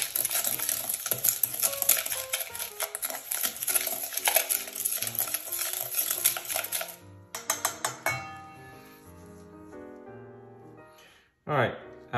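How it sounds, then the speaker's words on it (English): Chicken wings being mixed with salt in a bowl, a run of close clattering and clinking utensil-against-bowl sounds that thins out and stops, followed by a few isolated knocks and near silence. "right now I like to give it a good mix here first"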